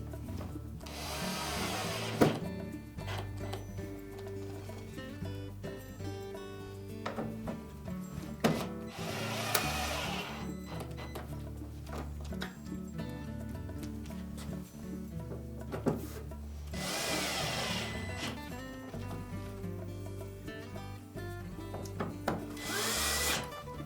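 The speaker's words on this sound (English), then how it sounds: "Then next we'll put the remaining 5 screws in, and use caution with these that we don't over tighten them" A power screwdriver drives screws into a Frigidaire dryer door hinge. It sounds as four short, whirring bursts spaced several seconds apart over a steady, humming background.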